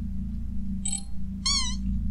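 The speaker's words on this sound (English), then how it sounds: "Was that the first time the cat got hurt?" A cartoonish cat meows twice in quick succession as it is hurt in the video game Momodora: Reverie Under the Moonlight, the second cry longer and more tonal, heard over a constant low game hum.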